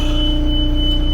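A steady, high electronic beeping tone, the warning beep of a Doosan 7-ton forklift with a three-stage mast, rings continuously over a loud engine hum, close by.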